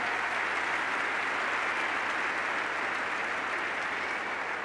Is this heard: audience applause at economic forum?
yes